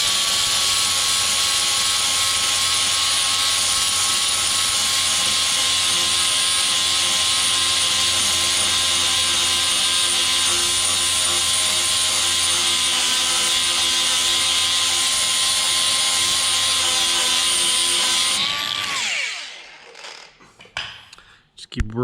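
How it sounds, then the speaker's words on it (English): Angle grinder with a flap disc working the sheet-metal body of a vintage Chevrolet C10 truck, a steady loud high-pitched whine held for about eighteen seconds before it spins down and stops. "I'm probably gonna start with a flap disc"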